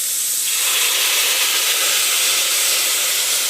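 Ginger garlic paste hits hot oil in a pan of sautéing onions and rock salt, giving a loud, steady, bright sizzle that rises sharply after the first half second and holds without a break.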